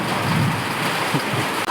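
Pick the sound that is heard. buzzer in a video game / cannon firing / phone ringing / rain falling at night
rain falling at night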